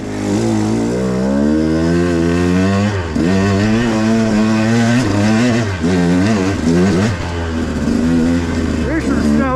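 A motorcycle fitted with a Keihin 36mm carburetor and VeeMoto Apex tires rides over snowy, slippery ground, its engine droning loud and close and revving up and down in waves.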